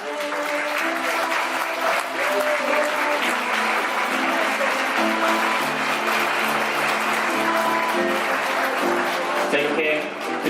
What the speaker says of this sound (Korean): 신랑 입장해 주십시오. 큰 박수 드리겠습니다.